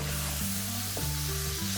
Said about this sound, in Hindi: कीमे को थोड़ा सा आप प्याज के साथ भून लीजिए